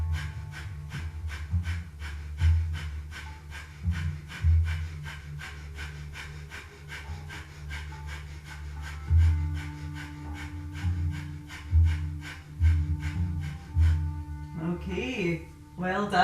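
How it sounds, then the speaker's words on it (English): Rapid rhythmic forced exhalations of Kapalabhati breathing during a yoga boat pose, a steady pumping series of short snorting breaths running throughout, close and moderately loud over faint background hum. "And you can also add your Kapalabhati breathing."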